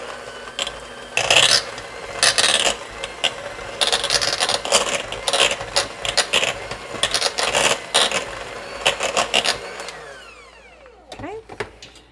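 A kitchen mixer beats cheese straw dough, a steady close whirring and rasping with scraping knocks over several seconds before winding down and stopping near the end.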